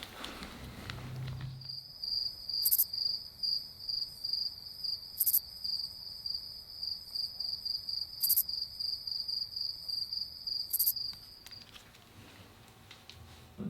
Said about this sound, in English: So you heard crickets instead